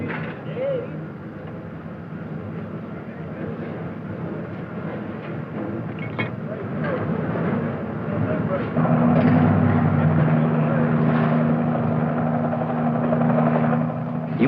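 A US Navy helicopter lifting a 3,500-pound load during night replenishment at sea from a supply ship, a loud continuous rotor and engine roar that swells and steadies with a droning hum in the second half.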